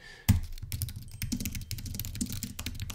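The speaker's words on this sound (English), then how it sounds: "so we're just kind of typing that through" Rapid typing on a computer keyboard, dense irregular key clicks close up, steady and alone with no voices, entering daily log notes in construction management software.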